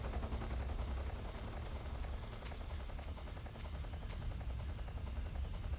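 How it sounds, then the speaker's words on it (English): A helicopter in Metal Gear Solid 3: Snake Eater thrums as a low, continuous rotor rumble that stays quiet and distant, with a few faint sharp clicks on top. "Where is this helicopter?"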